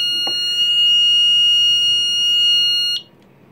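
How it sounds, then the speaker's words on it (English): A Ludlum 177 radiation detector alarm sounds a steady, piercing electronic tone on a workbench after a gamma pancake probe sets it off, holding for about three seconds before cutting out. "Oh, I've set off the alarm on accident."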